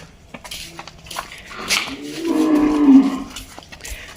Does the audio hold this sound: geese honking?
no